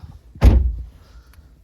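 A single solid thunk from the door of a 2025 MINI Cooper S Convertible, close and fairly loud, fading quickly into quiet.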